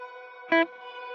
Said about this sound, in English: it's set at an interval of a perfect fifth above or 7 semitones up